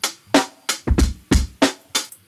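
Drum loop from the pre-chorus of a hip-hop beat, with punchy kicks and snares hitting in a steady, looping pattern, loud and clear with no voices over it.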